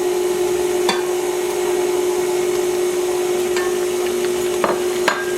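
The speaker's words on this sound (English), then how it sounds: "I'm going to let that mix until the third egg is nice and incorporated" Stand mixer running steadily as a third egg is beaten into churro dough, a constant motor whine with a few sharp clicks and knocks of the bowl or paddle, no talking.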